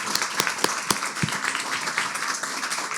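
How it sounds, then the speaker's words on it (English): Applause from a crowd at an event, dense and steady throughout, with a few louder nearby claps standing out in the first second. "let's give Betsy and Charlie a huge round of applause"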